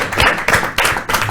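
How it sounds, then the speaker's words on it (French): An audience claps in bursts at a French-language talk, with several short surges of applause in quick succession, close and fairly loud, and no talk over it. "On peut d'abord applaudir pour lui."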